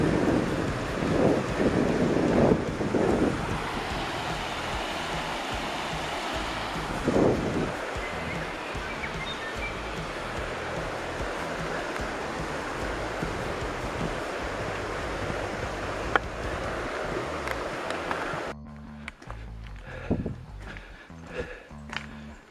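River water rushes steadily during a hiker's crossing of the Brown River on the Heaphy Track, a broad continuous roar with wind buffeting and occasional thumps, then the sound drops and changes near the end.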